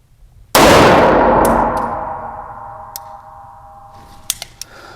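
A single loud shot from a Staccato XC pistol, sharp close crack followed by a long ringing metallic decay, then a few faint clicks and taps as it fades.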